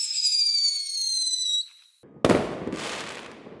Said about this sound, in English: It's fireworks lighting up the night sky.